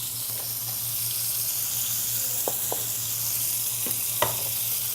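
Fish coated in Parmesan cheese sautéing in a pan, a steady low sizzle with faint clinks and scrapes of a utensil stirring now and then, no talk.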